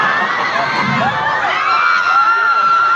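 A dense crowd at a mall show screams and cheers continuously, high shrill shrieks and whoops blending into a loud, sustained roar with no breaks.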